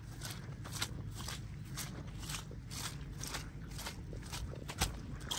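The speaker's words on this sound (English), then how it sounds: "you can probably hear that I'm just squelching with every footstep" Steady rhythmic footsteps squelch through wet mud, close and moderately loud, each step a soft wet thud repeating at a walking pace.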